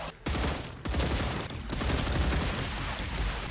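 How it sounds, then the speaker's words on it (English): Automated gun turrets in the video game StarRupture fire a dense, continuous fusillade of rapid shots, loud and sustained throughout with brief dips, no talking. "So let's watch our guns do the work."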